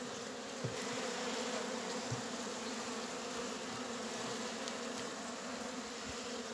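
Honeybees swarm around their hive during an early first flight in 2022, a continuous, even drone of many wings close to the ear, steady and unbroken throughout with no speech.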